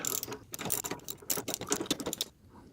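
A ratchet wrench with a 10mm socket clicks in quick, uneven bursts while loosening a nut on a Mercedes rear suspension. The ratcheting is close and loud with short pauses between strokes.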